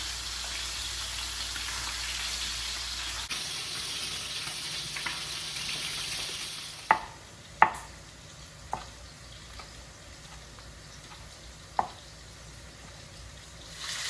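Chorizo sausages sizzle in a paella pan, a soft steady frying hiss that drops quieter midway, followed by a few sharp clinks and taps of utensils against the pan, with no talking.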